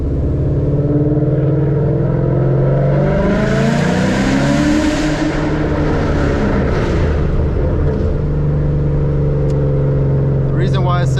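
Ford Mustang GT 5.0 with straight-piped exhaust and a tune, heard from inside while driving: a loud, continuous raspy V8 drone that rises and falls through acceleration and shifts, with a few faint clicks near the end.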